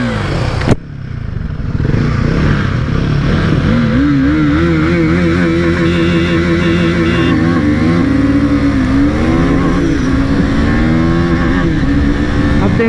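A KTM Duke 390 and a Royal Enfield Himalayan 450 run a drag race. A sharp bang opens it, then engines rev and climb through the gears in a loud, sustained roar close by, with pitch rising and dipping.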